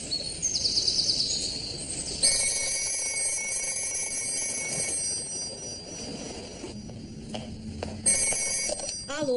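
A telephone rings inside a Brazilian home in a 2003 film, with short bright bursts of ringing tones separated by brief gaps over a quiet room background.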